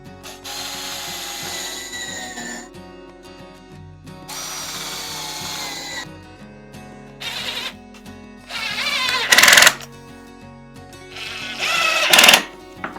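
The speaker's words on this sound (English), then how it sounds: "I'm going to drive a couple of screws right in this end" A power drill drives a couple of screws into the end of a wood block, several whirring bursts of two to three seconds with pauses between, ending in louder ratcheting clatter, close with no talk.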